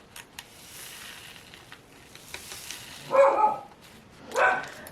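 Two short bursts of dog barking rise indoors over a quiet room, near and moderately loud, separated by a second or so of near silence, with faint rustling before them.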